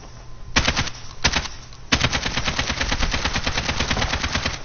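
Rifle fire in Call of Duty Modern Warfare, loud and close: two short quick-shot bursts separated by brief pauses, then a long sustained stream of rapid automatic shots with no talking over it.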